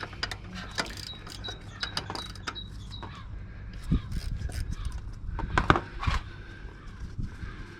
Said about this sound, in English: I want to take the banjo bolt off, which I think's that's 13